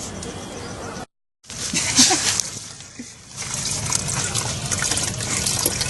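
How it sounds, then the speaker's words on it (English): Wastewater pours through a hose into a biosand filter with a continuous rushing trickle and splatter, broken by a short silent gap early on, then running on steadily with drips mixed in. "The wastewater is coming, has started dripping."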